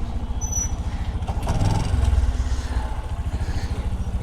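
A motorcycle is being parked outside a temple at a Karaga festival, its engine running low and steady close by, with a brief rise and clatter midway before settling back to a rumbling idle.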